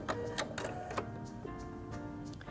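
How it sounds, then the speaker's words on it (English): The thread cutter of a Singer HD6805C sewing machine trims the threads with a quick run of close mechanical clicks and a brief whirring motor tone, short and alone. "Press my thread cutter button to trim my threads."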